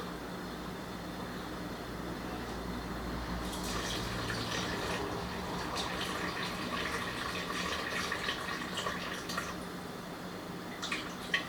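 Water poured into a mixing bowl for focaccia dough, a quiet running trickle against a low room hum that grows splashier midway and carries on steadily, with no talk over it.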